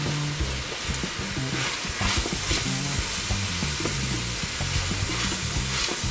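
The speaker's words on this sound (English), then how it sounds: "we'll go ahead and give everything a mix." Onions and garlic seasoned with black pepper sizzle loudly in a pan for a Zuppa Toscana soup while being stirred, with a steady close frying crackle and scraping stirring strokes throughout.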